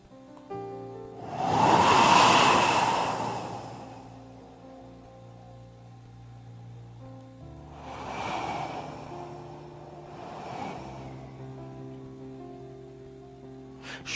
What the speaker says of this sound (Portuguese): ouve o barulho do vento